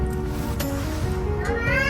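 A cat meows somewhere outdoors in Japan, its voice rising over a dense, steady wash of background noise for about two seconds.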